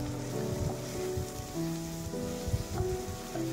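Onion and ginger-garlic paste sizzling in hot white oil for a prawn and cabbage dish, a steady crackling fry with occasional louder spits, alone and close.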